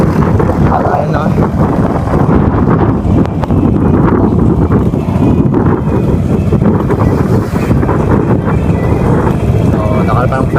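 Strong wind roars steadily into the microphone, a constant heavy rumble with no pauses throughout.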